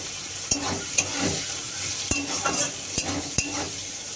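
Onion and chilli frying in a pan, a steady close sizzle broken by several sharp scrapes and knocks of a spoon stirring, with no talk.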